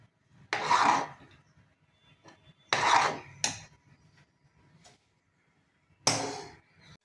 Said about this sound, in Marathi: जायफळ आपण किसू.